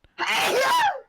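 A single loud, drawn-out sneeze up close, starting with a sharp burst and trailing off into a voiced groan.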